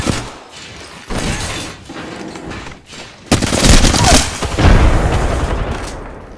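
Rapid bursts of gunfire from the battle royale shooter Apex Legends, loud and close, with a sharp heavy volley in the second half over game effects.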